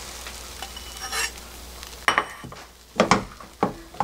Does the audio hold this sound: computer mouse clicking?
no